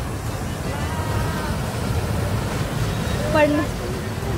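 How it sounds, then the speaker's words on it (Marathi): Strong rushing water pours at a monsoon waterfall, a steady loud roar throughout, with people talking over it and a brief call near the end. "कसलं जोरात पाणी येतंय बाबू"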